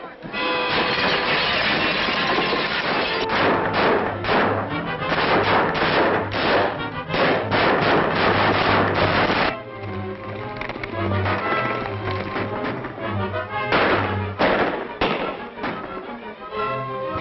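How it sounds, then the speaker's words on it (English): Gunshots are fired over people's heads in a Western gold-rush ghost town, a loud barrage of rapid cracking shots in dense bursts, with running footsteps and a few brief vocal sounds mixed in. "Shoot over their heads."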